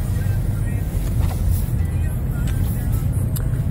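Car driving along a snowy Brooklyn street in New York, a steady low engine and road rumble throughout at moderate level, with faint voices mixed underneath.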